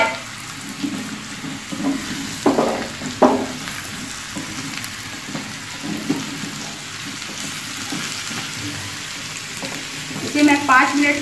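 Jackfruit pieces, about 1.5 kg, frying in refined oil, giving a steady close sizzle with a few louder bursts of stirring and spatter.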